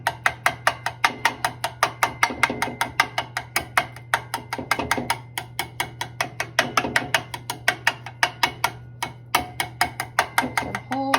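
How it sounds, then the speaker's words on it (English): Raw chicken breasts in a pan being poked full of small holes with a utensil, a fast run of sharp, evenly spaced clicks and taps repeating steadily throughout, close and fairly loud, with no talking. "Poke some holes. Sorry, it's a little bit noisy."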